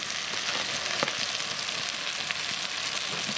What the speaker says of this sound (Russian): Пока нарезали кабачок, сразу отправляем его сюда же.